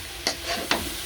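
Puli pitha filling is stirred in a pan over low heat, giving a soft sizzling bed broken by two or three quick scraping strokes of a spatula, close and fairly quiet, with no talking.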